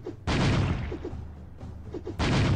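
Spiders dying in a video game: heavy bursts of crunching, explosive impact noise hit twice, with rumbling thuds and scattered clatter between them, loud and close.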